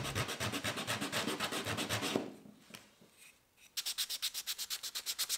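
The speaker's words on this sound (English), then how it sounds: "I used my scraper for that and some sanding to get down to some bare wood." Rhythmic sanding strokes rasp across a wooden handplane handle down to bare wood, pausing briefly before resuming at a steady back-and-forth pace, close and clear.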